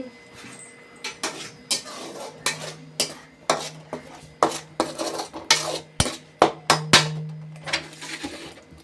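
A metal spoon stirs food in a cooking pan in a home kitchen, making a steady run of clinks and scrapes against the metal about every half second, with a faint hum underneath and no talking.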